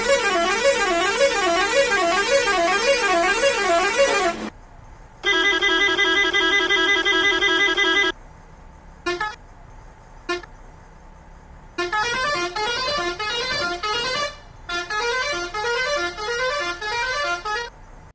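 A series of loud musical bus horns from Bus Simulator Indonesia sound up close, ending with the horn on the steering centre. Warbling, melodic blasts of several seconds alternate with short bursts and brief silences, with no talk.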